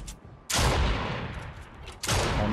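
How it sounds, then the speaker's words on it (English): Gunfire in a Fortnite battle royale match: two loud, harsh bursts of rapid shots, the first lasting over a second, the second starting about a second and a half later, with no talking over them. "People are shooting."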